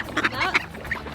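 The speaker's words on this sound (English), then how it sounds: "I've been selectively trying to feed the bluebills because they seem dumb." Bluebill ducks quacking near and loud while being fed bird seed at a bird sanctuary, several short nasal calls in quick succession across a brief moment.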